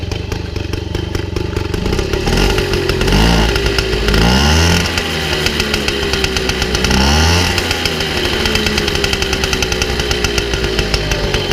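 A Mobylette 51 moped's two-stroke engine runs loud and close after starting, a raspy crackling buzz through a derestricted exhaust, with a few revving swells rising and falling over a steady idle.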